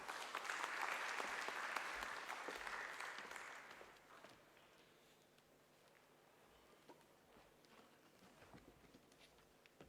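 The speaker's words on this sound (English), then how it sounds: "Please give him a big round of applause." Audience applause for a government official at a trade and investment indaba, a dense wash of clapping for the first four seconds that then fades to scattered claps and room noise.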